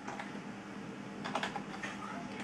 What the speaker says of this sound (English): type the song that you have